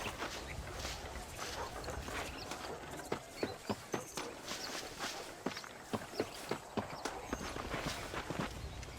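Horse hooves clip-clopping at a steady walking rhythm in Red Dead Redemption, a clear run of close, even hoofbeats over an ambient outdoor bed.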